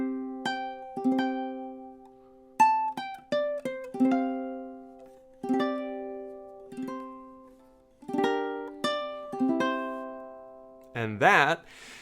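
Solo ukulele playing the outro melody, plucked single notes and brief strums ringing clearly at a moderate tempo, ending with a quick strummed flourish.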